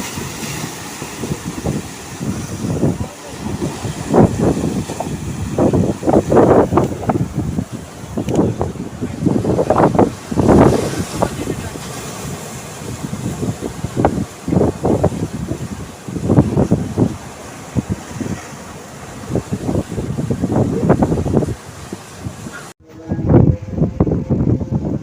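Ocean waves and wind at Chembarikka beach in Kasaragod, Kerala, at sunset: gusty wind buffets the microphone while waves surge and break in loud, irregular washes, then cut off abruptly near the end.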